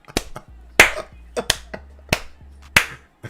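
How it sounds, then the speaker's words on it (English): Several sharp hand claps, given for a football team during live FA Cup match commentary, ring out one at a time at irregular intervals over a low steady hum, loud and close. "I have to give them a clap"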